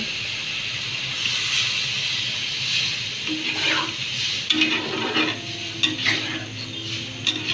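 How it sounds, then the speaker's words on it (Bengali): Water poured into frying fish curry hits the hot pan and sizzles with a steady hiss, joined by scattered clinks and stirring sounds. "এখন আমরা এর মধ্যে একটু পানি ঢেলে দিচ্ছি"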